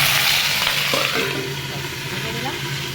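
Okra and potato frying in oil with panch phoron, a dense close sizzle hissing continuously and easing slightly, with faint utensil movement.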